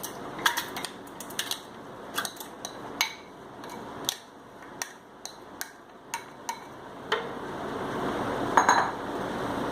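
Items clink and tap against a blender jar one at a time while ingredients such as mint leaves, black salt, curd, pineapple, sugar and ice go in, giving sharp, separate knocks at an irregular pace over a quiet background.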